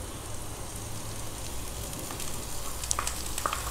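Chopped spinach sautéing in a pan after garlic, a continuous soft sizzle with faint crackles and a few sharper pops near the end, no voices.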